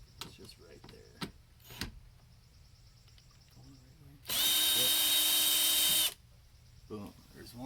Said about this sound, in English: So I'm gonna go at it with my drill.